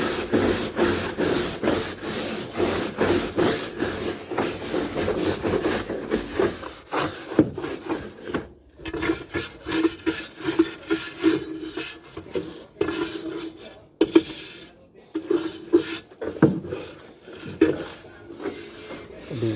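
Rust being scrubbed off the side mirror and handle of a 1980 Chevy 4x4 truck, a steady close rasping rub of brush strokes that turns choppier and more broken toward the end.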